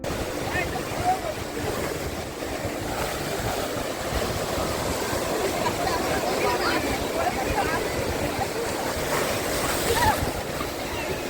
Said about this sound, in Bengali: সৈকতের ওপর থেকে সমুদ্রের এই ঢেউ দেখা এক অসাধারণ অভিজ্ঞতা।